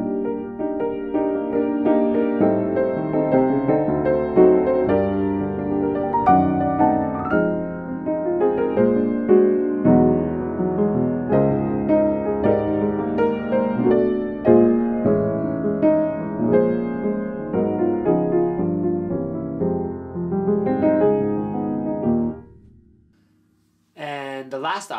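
Solo piano plays full, flowing chords of a song transposed up a half step, close and clear for over twenty seconds before the last chord dies away. A brief sound follows at the end.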